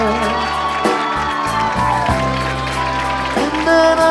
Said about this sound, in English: Let's give a round of applause to everybody that's 30 years and up.